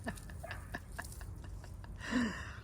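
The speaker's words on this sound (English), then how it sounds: "Oh my gosh, roosters." Roosters at a home vegetable garden with bees: a short, faint, distant crowing call near the end follows scattered soft background clicks.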